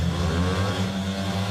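Speedway motorcycles rev hard at the start line of a heat at the 2025 Czech Republic Speedway Grand Prix, a loud, steady, sustained engine roar with no talk.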